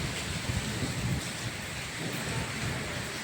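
Rain driven by strong wind, a steady hiss of falling drops mixed with low gusty rumbles, moderately loud and continuous, with no talking.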